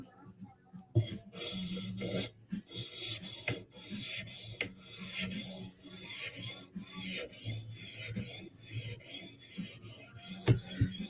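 A knife blade is drawn back and forth across a 400 grit whetstone in quick, repeated rasping strokes, close and fairly quiet, with no talk.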